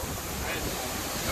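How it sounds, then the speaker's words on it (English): Strong hurricane wind gusts roar as a continuous, loud, buffeting rush over the microphone in Metairie, Louisiana, with no break in the blast. "the wind gust is coming up faster and faster from over here"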